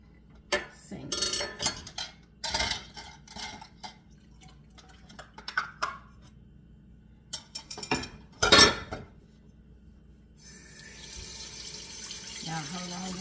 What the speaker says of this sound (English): I have to move some things around so I can get the bowl in the sink.